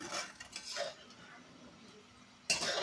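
A spoon stirs sago and sugar in a cooking pot for a sweet dish, with soft metallic scrapes and clinks near the start and again at the end, quiet and close with no talking.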